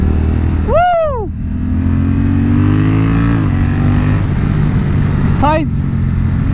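A Honda Rebel 1100 motorcycle engine blips sharply twice on downshifts, rising and falling revs over a steady riding rumble and wind.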